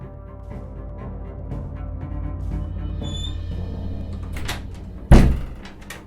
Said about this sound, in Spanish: escucharon el sonido de una puerta que se cerraba